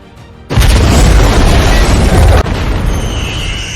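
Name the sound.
explosion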